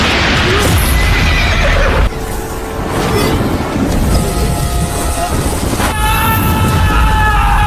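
A horse neighs loudly over a dense, layered soundscape with wind and rumbling noise, a second whinny rising near the end.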